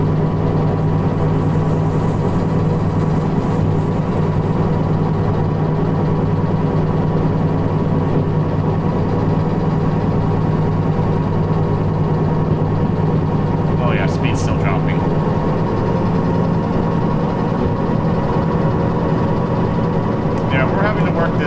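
A locomotive engine in Derail Valley labouring under load, a loud, steady low drone with mechanical hum throughout, with a voice talking over it.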